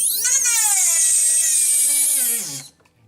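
A rotary tool fitted with a 2mm round burr drills into a metal pendant, a high steady whine that stays loud and close for about two and a half seconds, then drops in pitch as it winds down and stops.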